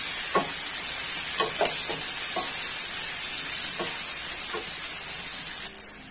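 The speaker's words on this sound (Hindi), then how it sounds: "और इसमें एक हम खड़ा ये लहसुन भी डालेंगे और अब आप प्याज को थोड़ा सा और रेडिश कर लीजिए।" Onions and garlic fry in a pan, producing a constant hissing sizzle broken by a few light taps and scrapes of stirring, close and fairly loud with nobody speaking.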